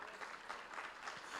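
A youth conclave audience claps and cheers in a brief, steady burst of applause with no voices standing out.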